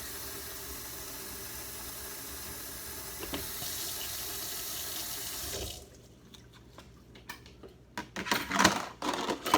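Tap water pours steadily into a container to fill it with 16 ounces for a Barbicide soak for implements, a continuous rushing flow that stops partway, followed by quieter clinks, splashes and handling sounds.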